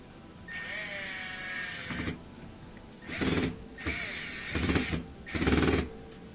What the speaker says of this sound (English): I'll go ahead and add the 2 Phillips head screws back in